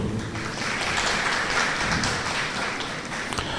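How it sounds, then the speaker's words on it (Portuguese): Sustained applause at a public hearing on a city master plan, greeting the finance secretary Rodrigo Silveira: many hands clapping together in a thick, even wash that lasts without a break. "a quem eu peço uma salva de palmas também"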